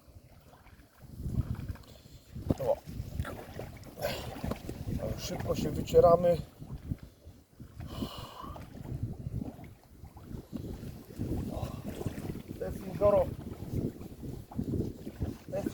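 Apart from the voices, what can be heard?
strong wind by a lake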